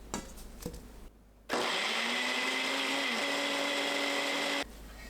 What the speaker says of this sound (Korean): 믹서에 넣고 곱게 갈아주세요.